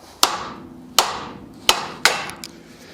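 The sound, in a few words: hammer whacking a ball joint loose on 1967 Chevy Impala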